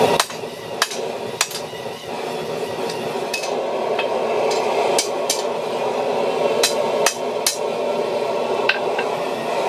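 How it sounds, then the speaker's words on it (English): Hot metal is hammered flat on an anvil, with sharp ringing strikes landing at irregular intervals over a steady background hum, loud and close, with no voices. "Take it out on the anvil, flatten it."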